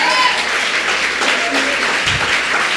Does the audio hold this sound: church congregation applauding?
yes